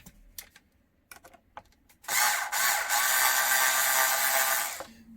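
Several light taps and clicks are followed by the steady whirring of a power driver, which runs for about three seconds while screws go into a Traxxas Maxx RC car body, close and loud, then stops.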